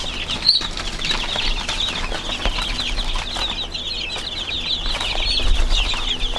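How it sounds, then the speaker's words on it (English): Chickens on a farm cluck and chatter together in a continuous, busy chorus, close and fairly loud, with a sharper squawk near the start and some wing rustling. "Looks like we have some chickens in here too."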